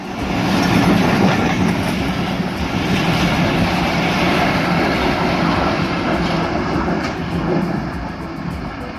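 A Bangladesh Railway intercity train, the Simanto Express, rolls past close by with its PT Inka coaches, a loud, steady rumble of wheels on rails that holds for the whole stretch with no voices.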